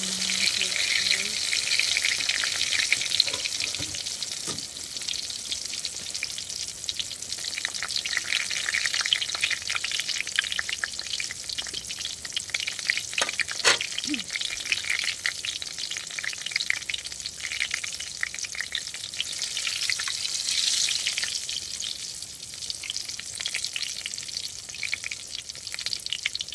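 Eggplant omelette (tortang talong) frying in a pan, a steady bright sizzle of hot oil that runs throughout with occasional faint clinks and kitchen noises mixed in.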